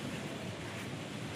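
Ocean waves wash at the shore, a faint, steady surf wash with some wind rumble and no voices.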